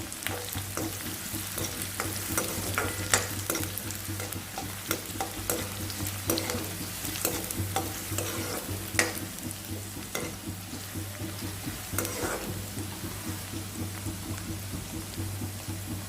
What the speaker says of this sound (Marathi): कांद्याला आपण थोडंसं परतून घेणार आहोत